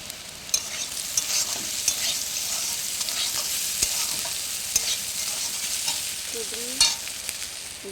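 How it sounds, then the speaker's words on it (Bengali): Ivy gourd, potato and okra frying in a pan, a steady sizzle with occasional stirring clinks and scrapes, close and moderately loud, with no talking. "কুঁদরি আলু ঢেঁড়স ভাজা করছি"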